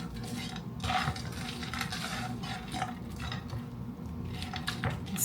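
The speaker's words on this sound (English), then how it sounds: "Now I'm gonna sprinkle it with the bacon. And I'm gonna mix it all up." Ground hamburger and bacon being stirred in a skillet for a cheeseburger pie, with a steady soft sizzle under scraping and utensil clinks against the pan, close and continuous.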